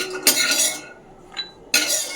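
Dry-roasted nuts stirred in a metal kadai make clattering, scraping bursts of metallic clinks separated by short quieter gaps.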